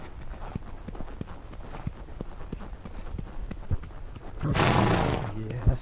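Hoofbeats of a pony moving near a road by cow pastures, a steady series of sharp clip-clop thuds, joined near the end by a loud burst of broadband noise, with a voice talking.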